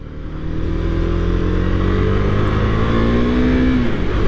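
A 2023 KTM 390 Duke motorcycle powering out of a corner, its engine note rising steadily in pitch as it accelerates, loud and close without a break throughout, with no talk over it.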